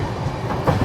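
Ranthambhore Express passenger train leaving Ramganj Mandi Junction, a steady rumble of cars rolling along the track with faint rhythmic clatter, close and continuous, no talk.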